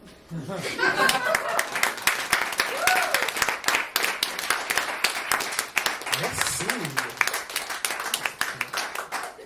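Live comedy club audience clapping for a stand-up performer, a dense steady wash of applause with scattered laughter mixed in, while the performer speaks briefly over it.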